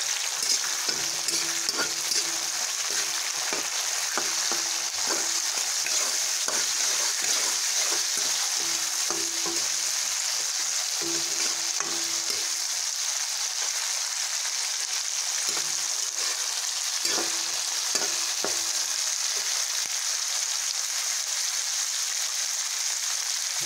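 Brinjal pieces fry in hot oil for a kara kuzhambu with a steady, close sizzle, broken by a spoon scraping and stirring the pan at irregular moments.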